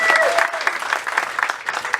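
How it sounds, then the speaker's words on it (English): Audience applause fills a community event on Staten Island, a dense patter of clapping from a crowd heard close and continuous, with voices mixed in beneath the claps. "Give him a round of applause."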